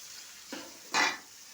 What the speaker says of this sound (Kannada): ಈರುಳ್ಳಿ ಕಟ್ ಮಾಡಿದ್ದೀನಿ, ಹಾಕ್ತಾ ಇದ್ದೀನಿ.